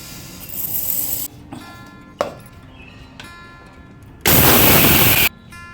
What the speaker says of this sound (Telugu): సన్నగా మిక్సీ పట్టుకోవాలి, పౌడర్ చేసుకోవాలి.